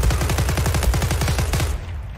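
Rapid automatic gunfire from the online shooter Zula, a steady burst of close, loud shots in quick rhythm lasting about two seconds before cutting off.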